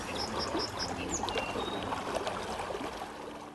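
Flowing water of the Kinnickinnic River, a wild creek, runs as a steady broadband rush and trickle throughout, with faint bird chirps scattered above it and no talking.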